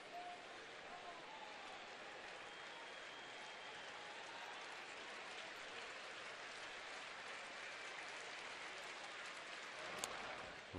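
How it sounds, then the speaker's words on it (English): A baseball crowd gives a standing ovation at a Cleveland home game, with sustained, steady applause and cheering from a large stadium audience. The roar stays dense and even, and a commentator's voice sits faintly under it. "A standing ovation."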